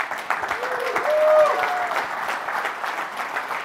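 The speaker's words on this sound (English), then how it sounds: "please give me a big round of applause for Citigroup." Audience applause at the BMC Exchange New York 2018 business conference: steady, moderately loud clapping from a crowd that swells briefly, then holds, with a voice speaking over it.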